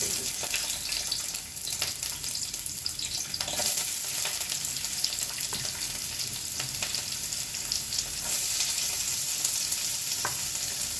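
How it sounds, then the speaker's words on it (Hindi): Chopped onion frying in hot oil over a medium flame, a steady dense sizzle and crackle running the whole time with occasional stirring scrapes, close and fairly loud with no talking. "तो मेरा ऑयल इसमें गर्म हो गया है. यस, बिल्कुल गर्म हो गया है. अब मैं इसे रखूँगी मीडियम फ्लेम पे. And I'm just gonna add my onion."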